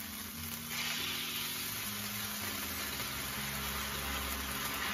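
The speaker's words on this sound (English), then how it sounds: "I'm gonna take a little bit of the sauce and deglaze the pan with this" Honey garlic sauce hits a hot pan used for steak bites and sizzles in a steady, close hiss that swells after the first second and keeps going without a break.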